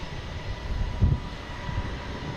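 JetBlue jet airliner from Montego Bay at Boston Logan Airport, a low, steady engine rumble at a distance with a brief louder swell midway, no voices.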